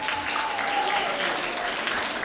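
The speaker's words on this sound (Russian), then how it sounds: "Аплодисменты!" Audience applause at the final of the Grani-2016 all-Russian choreography competition, a junior modern small-group round; steady, dense clapping fills the hall throughout, with a faint tonal whistle drifting in behind it.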